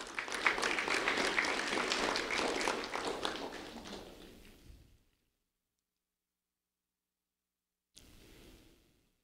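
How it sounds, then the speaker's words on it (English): An audience breaks into a round of applause at a school recognition event, dense clapping that fades out after about five seconds, followed by silence and then a brief return of faint sound. "a round of applause for Peter Sherd"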